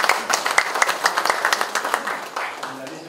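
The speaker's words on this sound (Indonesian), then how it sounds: "Kita beri tepuk tangan para pendamping" An audience at a government planning forum breaks into scattered hand clapping, a crowd of claps rising and thinning over a few seconds with voices mixed in.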